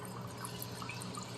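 Cold water flowing through a wort chiller during a home beer brew, a soft continuous trickle and gurgle with faint drips, steady and fairly quiet, with no talking.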